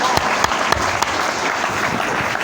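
An audience claps loudly and steadily at an anniversary celebration, a dense continuous applause with a few sharper individual claps standing out.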